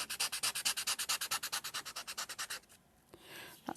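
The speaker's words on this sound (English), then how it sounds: "excuse me while I scratch away on some sandpaper for a moment." A pencil tip is rubbed briskly back and forth on sandpaper to sharpen it, giving a fast, even series of about two dozen close rasping strokes that then stop, followed by a couple of faint scrapes.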